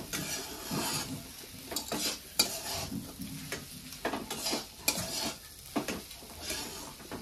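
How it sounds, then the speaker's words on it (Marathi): Green pea chutney with salt being stirred in a pan, soft scraping and clinking strokes of a spoon in an irregular rhythm, close and fairly quiet with a faint sizzle underneath. "आता भाजी पूर्ण चटणी आपल्याला हलवून घ्यायची, एकजीव करायचा पूर्ण"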